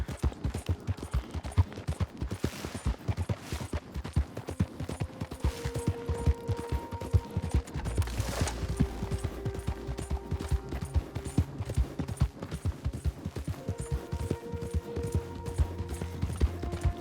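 Horse hooves clip-clopping at a steady riding pace in Red Dead Redemption 2, a continuous rhythmic patter with faint tonal game sounds layered over it.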